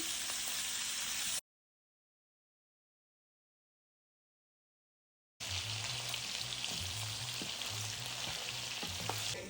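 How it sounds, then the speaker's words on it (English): Smoked sausage sizzles and crackles in a hot pan, a steady frying hiss with small pops. A few seconds of silence break it before the sizzle resumes, louder and closer. "Now that we've got this sausage all sauteed up, it's plumping, it's a little charred"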